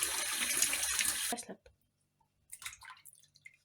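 Tap water runs loudly into a kitchen sink while fish is rinsed, a steady broadband rush for over a second before cutting off, followed by a few scattered splashes and drips.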